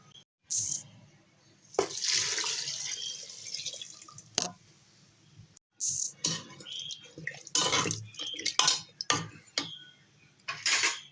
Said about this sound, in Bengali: আমি কড়াতে জল দিয়ে দিলাম এই জলটা আমি প্রেশার কুকারে দিয়ে দেবো